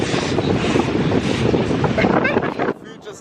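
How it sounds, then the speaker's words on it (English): Strong wind roars across the microphone on a boat trip, loud and gusty, with a voice partly buried beneath it before the noise drops away abruptly near the end. "Hey, listen to the wind."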